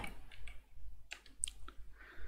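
Keys tapped on a keyboard while entering a terminal command, a few faint scattered clicks in two short bursts over a quiet background hum.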